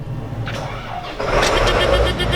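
A 2001 John Deere 9750 STS combine's engine starts: cranking gives way to a low rumble that rises and holds as a steady, fairly loud idle, with faint mechanical rattles on top.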